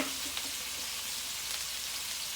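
Meatballs brown in a Power XL cooker with a steady, even sizzle of frying fat, close and moderately quiet, and no talking.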